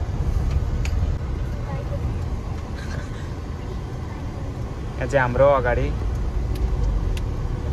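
Steady road traffic on Nepal's busy East-West Highway, heard from inside a moving vehicle with a dairy truck ahead. A continuous engine and tyre rumble runs under someone talking, with a brief louder whine partway through.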